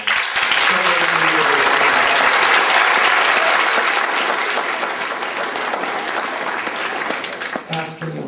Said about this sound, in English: we can clap for the accompanist for the first hour classes